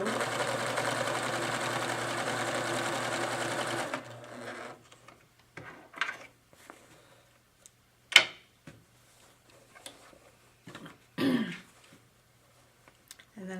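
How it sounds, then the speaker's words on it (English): A Pfaff sewing machine with its IDT dual top-feed system stitches down quilt sashing, running in a loud, steady hum for about four seconds before stopping, followed by quiet handling noises and a few soft clicks. "I'm using my IDT dual feed, which is the top feed system on the Pfaff sewing machine"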